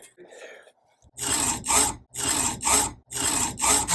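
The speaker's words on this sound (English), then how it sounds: "Doesn't take very much with my trusty saw." A small hand saw cuts through the nock end of a wooden medieval-style arrow in about six rhythmic back-and-forth rasping strokes, close and loud, after a brief faint rustle.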